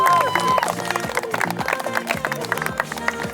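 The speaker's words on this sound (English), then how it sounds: "Clapping is appropriate here." Guests at a beach wedding in Pensacola clap after the vows, a lively close burst of applause with cheering and a voice over music.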